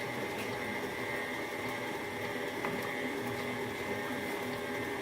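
A steady, even mechanical whir of an electric mixer beating carrot cake batter, continuous and moderately close, with no talking over it.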